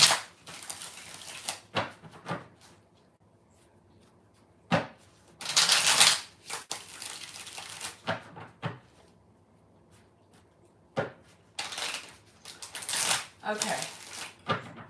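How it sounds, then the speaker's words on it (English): Tarot cards shuffled by hand in bursts of crisp riffling and flicking, with several short pauses between rounds, close and moderately loud. "We're just going to shuffle and try to get some action cards"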